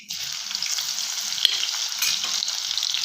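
Garlic and cumin frying over medium heat sizzle loudly and steadily in a pan, a bright continuous hiss with a sharp clink from stirring midway.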